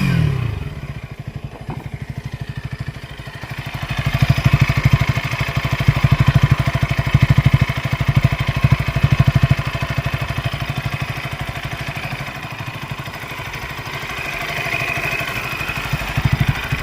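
A 2026 KTM Duke 160 motorcycle engine runs steadily near the microphone, with a low, even idle and a brief rise in throttle, plus some light mechanical clatter and no talking.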